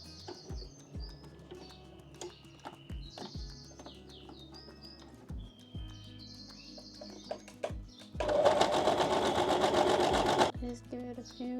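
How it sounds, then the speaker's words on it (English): Sewing machine top stitching fabric scraps for a summer top, a steady rapid whir running in short bursts with a loud sustained run near the end, under faint chirping and some background talk. "I'll just go ahead and top stitch it down a little bit"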